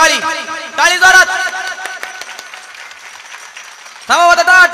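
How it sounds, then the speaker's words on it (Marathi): Claps ring out from an audience at a Marathi kirtan, a sparse scatter of sharp hits between stretches of a loud singing or talking voice. "टाळी वाजा फक्त टाळी टाळी जोरात"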